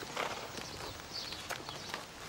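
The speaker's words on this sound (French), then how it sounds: "Pendant que vous ferez connaissance avec cet animal que l'on nomme le cheval" A horse walks with its hooves clip-clopping in a light, uneven rhythm of soft knocks at moderate distance, set against a faint background hiss.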